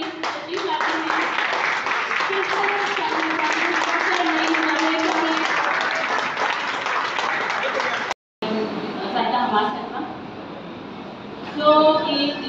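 Steady audience applause at a gathering honouring a woman academic, continuous clapping under a speaking voice for several seconds before a brief cut and further talk with faint claps.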